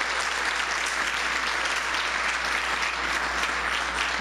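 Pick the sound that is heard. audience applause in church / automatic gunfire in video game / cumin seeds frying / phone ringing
audience applause in church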